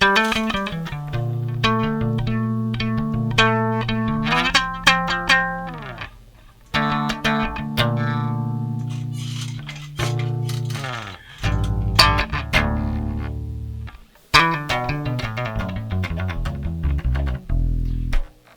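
A '73 Precision Bass with faulty electronics, both pickups and tone fully up, plays notes and chords in bursts with an unsteady, crackling and distorted tone, dropping out and cutting back in between phrases.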